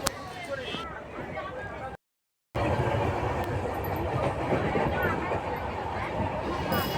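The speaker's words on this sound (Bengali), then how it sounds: "আমাদের ট্রেনও চলতে শুরু করে দিয়েছে।" Dhauli Express chair-car train on the Shalimar to Puri run, its steady loud rumble and rail clatter filling the carriage, broken by a short silent gap, with passenger chatter mixed underneath.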